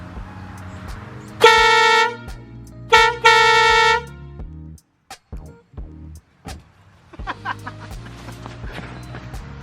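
Loud, blaring train horn blasts from a horn installed on a Ford Focus ST ring out twice in close succession over its running engine, followed by clicks and rattling mechanical noises.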